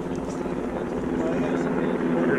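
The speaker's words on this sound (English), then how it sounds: "That's that little drone." A small drone flies overhead during a Falcon Heavy launch viewing, giving a steady buzzing whir that stays loud throughout, with people talking nearby.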